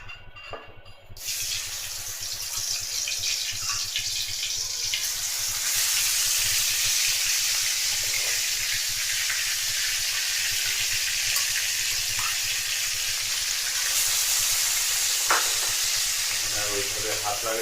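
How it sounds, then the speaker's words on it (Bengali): Spiced pangas fish frying in hot oil, a steady bright sizzle that starts after a brief quiet moment and continues strongly close by, with occasional stirring clicks. "তো এখন মাছ ভাজি করবো।"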